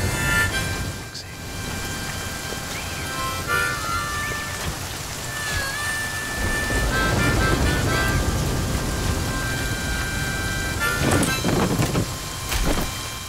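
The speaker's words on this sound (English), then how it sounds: "It started raining again." Steady rain in the video game The Flame in the Flood patters and hisses throughout, with faint tonal chimes and a low rumble underneath; no voices.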